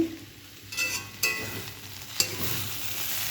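Ghugni sizzles in a pan as its bottom starts to stick and crisp, a continuous quiet hiss broken by a few scraping strokes and one sharp utensil tap, close by with no voices.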